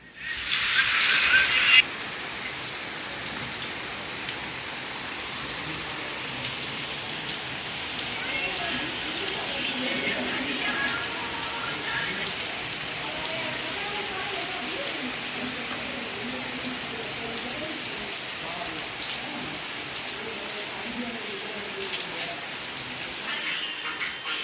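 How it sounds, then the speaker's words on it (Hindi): Heavy rain falls outside a shelter, a steady dense hiss of drops on surfaces that runs throughout, with a brief louder burst at the start. "आप बाहर देखिए कितनी तेज़ बारिश हो रही है।"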